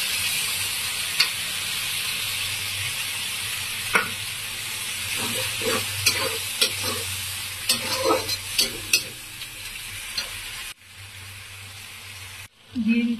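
Chili, turmeric, cumin and coriander powders fry in oil with ginger-garlic paste, giving a steady, loud sizzling hiss broken by scraping stirs and clinks of the spoon against the pan.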